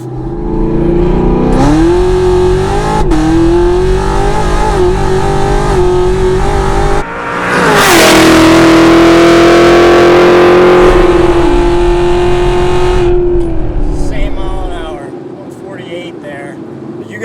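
A roughly 1000 HP Hennessey-built Camaro ZL1 1LE engine roars and revs hard in three back-to-back pulls from 30 to about 150 mph, loud and close, the pitch climbing steadily before easing off at the end.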